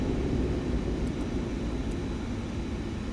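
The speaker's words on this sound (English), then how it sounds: "And we'll go ahead and cut off the engines." Airbus A330-300 engines in Microsoft Flight Simulator 2024 winding down after parking, a loud, steady low roar and whine with broad hiss that holds fairly even over a few seconds, no talk.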